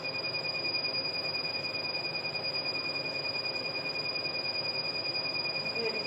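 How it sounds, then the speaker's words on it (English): A Soprano ice laser hair removal machine in a clinic gives off a steady high-pitched electronic tone with a repeating beep over faint background room noise, continuous and unchanging throughout. "Even the beeping is quite soporific after a while."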